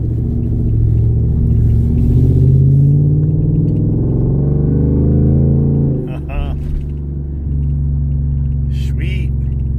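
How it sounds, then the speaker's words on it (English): A race truck's engine rumbles and its exhaust note drones loud and steady up close, dipping briefly near the end. "It's always about that exhaust note, isn't it?"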